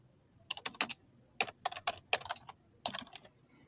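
Quick bursts of keystrokes clatter on a computer keyboard as a module gets renamed in an automation tool, arriving in three short clusters of crisp taps, close and clear.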